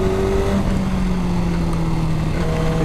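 A motorcycle engine drones steadily while riding, a loud, close, even hum with a slight pitch shift and no speech over it.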